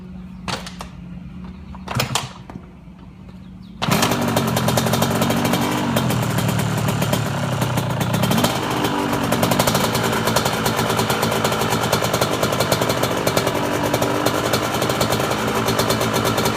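A two-stroke dirt bike with the choke on is kicked twice with short thuds, then catches near four seconds and runs loudly and close, holding a steady, rattly idle for the rest.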